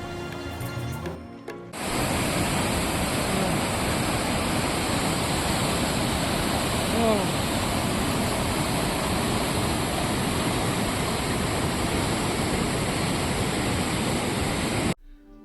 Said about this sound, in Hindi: साथ में बह रही नदी के पानी की कलकल ध्वनि